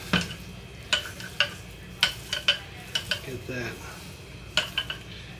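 Utensil stirring 85% lean ground sirloin in a pan, with repeated sharp scrapes and clinks against the metal at an irregular rhythm over a low sizzle, close and moderately loud.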